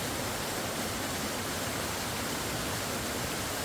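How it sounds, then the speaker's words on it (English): Small waterfall in Ubud, Indonesia, a steady broadband rush of falling water that fills the whole clip evenly, close and continuous with no voices. "Anyway, there's a waterfall."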